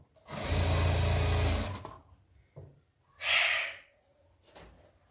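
A sewing machine stitching a lined salwar, a close whirring run of about a second and a half followed by a shorter burst, with quiet breathing and handling sounds between.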